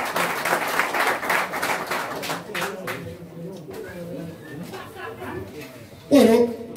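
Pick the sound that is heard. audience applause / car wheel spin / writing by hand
audience applause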